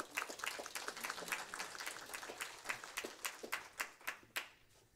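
Conference audience applauding a lead researcher and project manager as he is introduced, a dense clatter of many hands that swells and holds, with sharp individual claps standing out toward the end.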